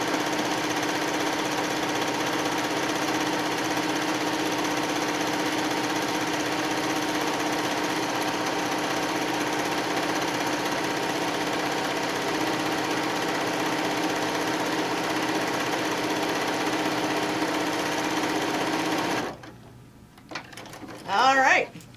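A sewing machine stitches a tote bag panel in one long, even mechanical whir that ends abruptly, leaving a few clicks and handling noises.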